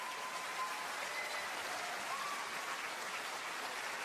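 An audience at a Polish cabaret show by Kabaret Neo-Nówka applauds, a steady, fairly distant wash of clapping that continues evenly throughout.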